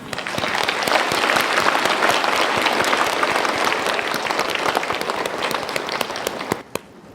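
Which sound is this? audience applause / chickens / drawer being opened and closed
audience applause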